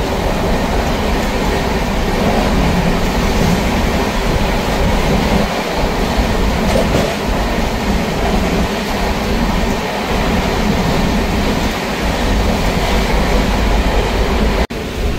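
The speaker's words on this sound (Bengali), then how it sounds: "আমাদের ট্রেন খুরদা রোড জাংশন ছেড়ে এখন আছে হচ্ছে এইখানে" A moving passenger train pulls away from Khurda Road junction with a steady, loud rolling rumble and faint rhythmic wheel clicks throughout, without any voices.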